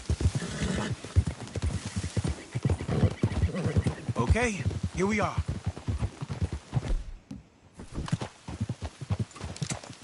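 Steady clip-clop of horse hooves on a road in the video game Red Dead Redemption 2, with a horse whinnying while people talk over the trotting; close and continuous.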